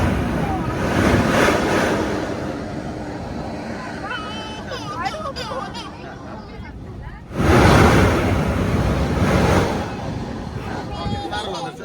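Rushing surf and wind roar at a sea blowhole on Mughsail Beach, Salalah, Oman, with a loud surge of water and spray midway; excited voices call out faintly in the background.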